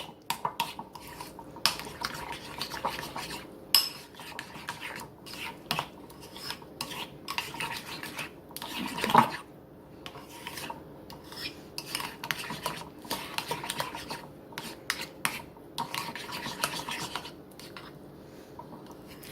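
A spoon working sour cream and casserole ingredients together in a bowl, with continuous scraping, clinking and rubbing strokes in an irregular rhythm and one louder knock partway through.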